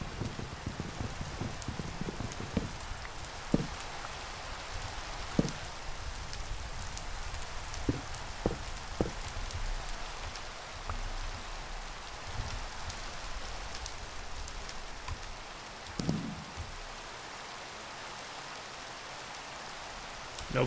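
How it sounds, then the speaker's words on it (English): Steady rain hisses continuously across the whole stretch in the Minecraft modpack Modern Skyblock 3, with a few brief clicks and taps scattered over the wash. "Let's get rid of this rain."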